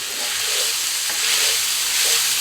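Ground beef, 80-20, browning in a little oil in a frying pan, giving a steady close sizzle and hiss with light stirring scrapes throughout.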